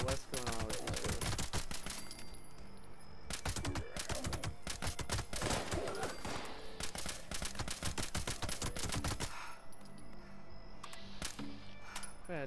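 Rapid automatic assault rifle fire in the video game Fallout 76, long continuous bursts of sharp cracks for about nine seconds before easing into quieter scattered sounds, with faint speech underneath.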